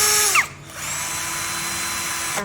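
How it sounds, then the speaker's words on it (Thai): An ONSEN 128V brushless cordless impact drill runs at speed setting two, giving a loud, steady, high motor whine held close up after a brief start. "มาเทียบระหว่างสว่านแบตกระแทกนะคะทั้ง2รุ่นนะคะ"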